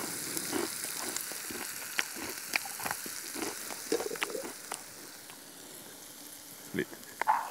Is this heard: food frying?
yes